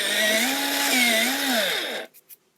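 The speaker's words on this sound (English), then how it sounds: "So I'm going to sharpen it a little." A colored blender pencil grinds in a sharpener with a close, high whirring buzz that rises and falls for about two seconds, then cuts off, followed by a couple of soft clicks.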